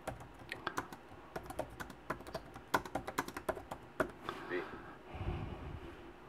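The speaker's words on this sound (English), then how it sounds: "just go ahead and type away." Fingers tap quickly on a Microsoft Surface tablet keyboard, a close, irregular run of crisp key clicks that trails off into soft handling noise near the end.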